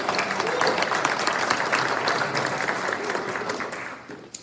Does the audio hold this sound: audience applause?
yes